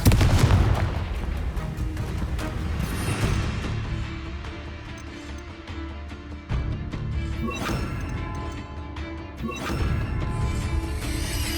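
Confringo explosive spells go off during Hogwarts Legacy combat: loud repeated blasts and crashes over a dense, continuous wash of game sound.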